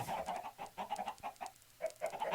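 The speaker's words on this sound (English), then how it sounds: "one of you lucky chickens can have the seed" Chickens in the Minecraft video game cluck in quick, soft bursts, quiet and a little distant, with no one talking over them.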